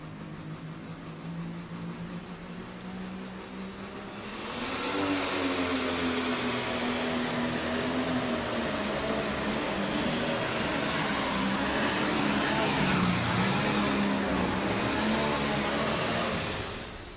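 A pro stock pulling tractor at a 2005 pull in Louisville, Kentucky roars loudly, its engine rising from a lower rumble into a sustained, broadband howl for over ten seconds before easing off.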